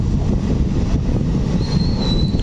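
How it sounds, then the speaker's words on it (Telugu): A DEMU train on the Secunderabad–Siddipet line rumbles steadily as it crosses Rajiv Rahadari on a flyover, a loud continuous low roar with a thin wheel squeal rising toward the end. "ఇప్పుడు ట్రైన్ అయితే ఈ రాజీవ్ రహదారిని క్రాస్ చేయబోతుంది"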